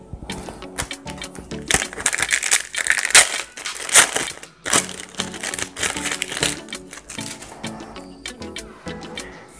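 Pokemon Tag Team GX booster packs being torn open and cards handled, a dense run of crinkling foil wrappers and crisp snapping card sounds, loud and close, coming in bursts with brief pauses.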